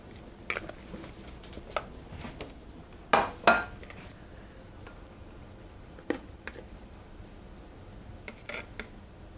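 Whole wheat pasta stirred in a pot and a plate fetched in a home kitchen: sparse, quiet clinks and taps of utensil on cookware, with two louder knocks near the middle and a few scattered ticks.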